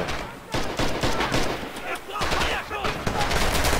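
Rapid gunfire from a tactical shooter video game match, dense bursts and repeated shots crackling loudly and overlapping, with game effects layered throughout.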